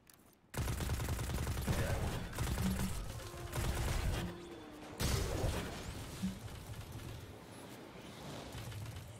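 An auto rifle firing in Destiny 2: Beyond Light in long, close, loud bursts of rapid shots, a few of them broken by short pauses, with faint speech in the background.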